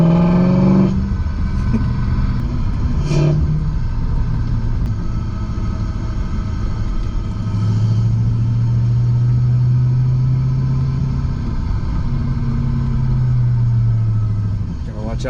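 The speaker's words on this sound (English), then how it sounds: "Then a little bit of intake sound." A car engine drones low and steady from inside the cabin, with a throaty intake rumble boosted by an intake amplifier rising and falling slightly under a person talking.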